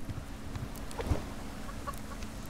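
A chicken in the survival game Subsistence gives a few soft, scattered clucks over a steady low hum, fairly faint and without talk.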